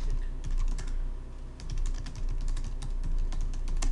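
Rapid keystrokes on a computer keyboard clatter in uneven bursts of typing, close and moderately loud against a low steady hum, with no talking.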